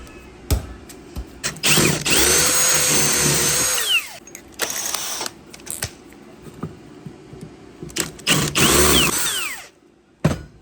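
A power drill bores out a seized bolt on a RAM 1500 during an electric exhaust cutout motor swap, stepping up through bit sizes. Two long loud whirring bursts with shorter grinding spurts and metallic clicks between them, no talk.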